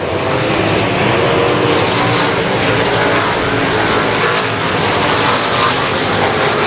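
Race cars circle the oval at Cotton Bowl Speedway in a loud, sustained roar of engines, the pack of cars passing close and continuously with no break in the noise.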